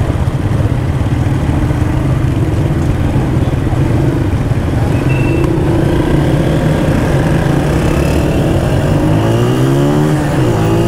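A Honda CG 125 motorcycle accelerates hard along a road toward its top speed, its engine droning loud and close throughout with rising revs and gear changes near the end, mixed with wind rush.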